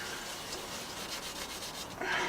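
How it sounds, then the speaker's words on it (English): Beeswax rubbed by hand into a small wooden box, a steady close scrubbing friction sound that grows a little louder near the end, with no talking. "use simple beeswax, got some over here, and just rub it in to the box"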